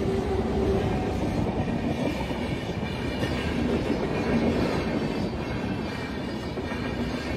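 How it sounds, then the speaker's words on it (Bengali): A train rolls past close by, a continuous heavy rumble with rhythmic clickety-clack of wheels on rail joints that stays loud throughout, with no voices over it. "চলো, একটা ট্রেন তো গেল"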